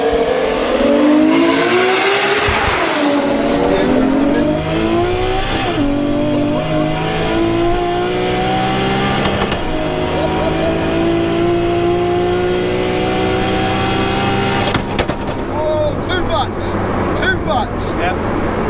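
The 1JZ engine of a Nissan S13 fitted with an M4 DCT gearbox revs hard and accelerates, climbing loudly through the gears with strong rising harmonics, heard from inside the car and continuous throughout.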